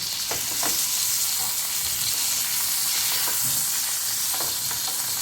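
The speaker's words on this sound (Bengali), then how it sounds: "দুপাশেই কিন্তু খুব ভালো করে কলা পাতাটা ভাজাও হয়ে গেছে এবং মাছটা সেদ্ধও হয়ে গেছে" Hilsa wrapped in banana leaf fries in a pan with a constant dense sizzle, close and even, broken by a few faint scrapes and taps of a spatula.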